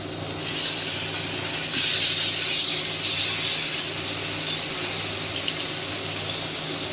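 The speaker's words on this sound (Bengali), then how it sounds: "মাছটা আমি একদম কড়া করে ভাজি দিব।" Fish frying crisp in hot oil, a continuous loud sizzle and hiss that holds steady throughout with no pauses.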